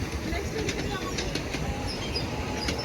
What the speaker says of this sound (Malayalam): കുഞ്ഞ ട്രെയിനാണ്